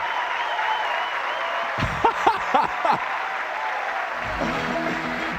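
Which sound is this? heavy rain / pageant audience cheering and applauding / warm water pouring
pageant audience cheering and applauding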